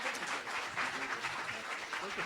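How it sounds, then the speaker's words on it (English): Soft, steady applause from an audience at a university panel event, heard faintly and at a distance as a dense, continuous patter that holds throughout without letting up. "Let's give them another round of applause"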